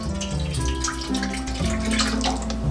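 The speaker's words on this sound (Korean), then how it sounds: "물 대신 우유를 부어주고" Milk pours steadily into a cooking pot for ramen, a soft continuous liquid splash and gurgle at close range lasting a few seconds, with no voices.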